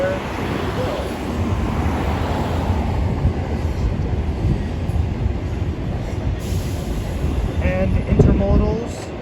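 A Norfolk Southern freight train rolls steadily past in Duluth, Georgia, a loud continuous rumble of wheels and cars with brief wheel squeals near the end and a single short spoken word.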